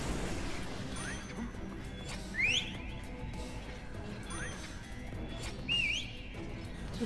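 A character in Lego DC Super-Villains gives two short rising whistles, several seconds apart, over a low, busy game background.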